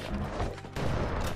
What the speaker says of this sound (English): With the carbine, I can make quick work of them.